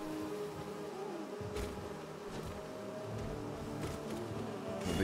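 A drill bee enemy in modded Hollow Knight makes a faint, continuous insect buzz, with a few soft whooshing bursts rising over a low background hum.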